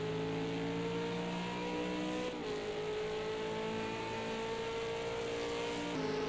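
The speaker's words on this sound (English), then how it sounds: "There we see the train of 3 cars coming out of turn number 12." Several V8 Supercars race cars roar past in a steady, loud engine drone, pitch shifting as they power out of turn twelve, with no talking.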